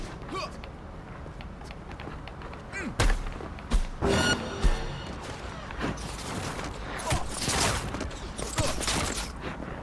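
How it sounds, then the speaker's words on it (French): Gunfire from a hostile drone in Cyberpunk 2077, with bursts of loud impacts and thuds around a few seconds in, followed by rattling mechanical clatter, set against a busy game soundscape. "C'est quoi, c'est un drone qui me tire dessus?"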